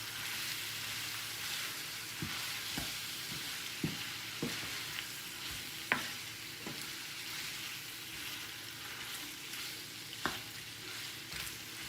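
Potatoes in a skillet sizzle steadily over medium heat, with a utensil scraping and clinking against the pan in scattered strokes throughout; no voices.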